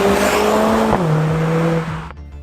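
A loud, rumbling Mercedes CLA 45 AMG engine sound, artificially piped into the cabin, revs up, then drops pitch on a gearshift and keeps droning before cutting off abruptly.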